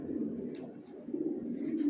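A pair of young silver racer pigeons cooing in a loft: soft, low, throaty coos repeating in a gentle murmur, fairly quiet and near, with no talking.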